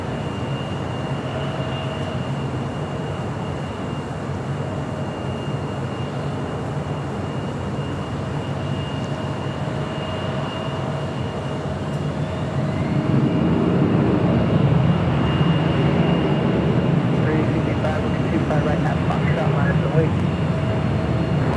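An Alaska Airlines Boeing 737-900ER jet arriving from Seattle on runway 25 left at LAX, a steady broadband roar that swells louder about halfway through and holds, heard over continuous background rumble.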